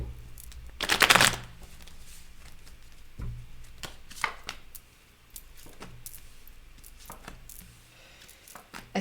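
Tarot cards being shuffled, a dense riffling burst near the start followed by softer flicks, taps and card handling at close range, with no talk over it.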